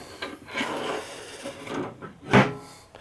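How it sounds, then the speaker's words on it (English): The small record player door on a Farnsworth EK 264 chairside tube radio, a 78 RPM cabinet, tilts down with soft wooden rubbing and scraping, ending in a brief louder knock near the end. "that little door tilts down"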